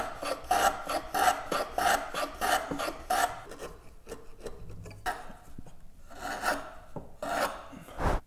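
A wooden tenon is trimmed by hand for a mortise fit, giving a steady, rhythmic rasping scrape of strokes close by. A brief pause comes midway before a few more strokes, with no voices.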